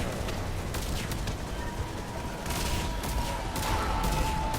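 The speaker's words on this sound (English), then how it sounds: "Can you stop shooting now?" Enemy gunfire in the Mass Effect 3 video game, a dense, unbroken clatter of rapid shots filling the whole stretch with no talking over it.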